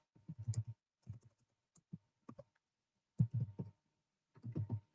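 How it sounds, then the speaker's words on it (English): Typing on a computer keyboard: soft, close clicks come in short irregular bursts of several keystrokes, separated by quiet pauses, with no voice. "I'm typing in my prediction now"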